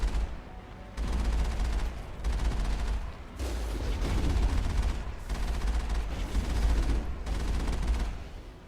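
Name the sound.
Geth armature heavy artillery firing in the video game Mass Effect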